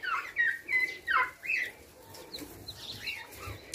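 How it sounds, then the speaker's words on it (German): Loud, agitated squawks and honks from a duck in a burst of four or five calls over the first two seconds, then quieter scattered calls and wing flapping among other birds, close by with no talk. "Ja, die wird sich schon beruhigen, die Ente."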